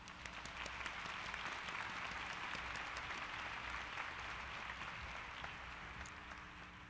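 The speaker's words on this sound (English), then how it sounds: "Let's all give them a round of applause." A large crowd applauds steadily at a fall university commencement ceremony, a dense, even wash of clapping heard from a distance and held at a constant level throughout.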